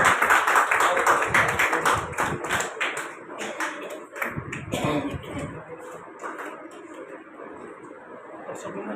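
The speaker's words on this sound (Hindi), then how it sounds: "तो जोरदार तालियां" Applause at a Hindi literary gathering, with dense clapping that is loud at first, then thins and fades into scattered claps, taps and a cough over a quieter room.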